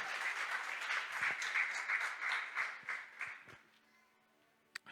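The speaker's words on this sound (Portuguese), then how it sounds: "Você pode aplaudir ao Senhor" A church congregation applauding in praise, sustained clapping that swells, then tapers off and fades into near silence with one last stray clap.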